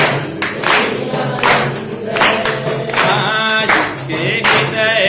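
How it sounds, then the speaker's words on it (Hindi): A group claps in rhythm to a devotional Ram bhajan, repeated hand claps keeping a steady beat alongside singing voices, loud and close. "तालमेल से ताली बजाते हुए गाइए गाइए।"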